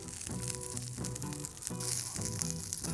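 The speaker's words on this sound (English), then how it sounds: "And you can hear this kind of sizzle and pop and crackle." Green beans laid in a single layer in a hot pan to char, giving a dense, steady sizzle with pops and crackles, close and fairly loud, while a faint rhythmic background tone runs underneath.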